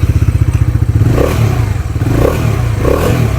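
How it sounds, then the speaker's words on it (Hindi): A Bajaj Dominar 400 motorcycle runs close by through its dual barrel exhaust, first a loud rapid thumping idle and then rising revs with deeper bursts of exhaust roar. "तो ये डुअल बैरल एग्जॉस्ट की जो आवाज़ है वो आप लोगों ने यहाँ पर सुन ली है"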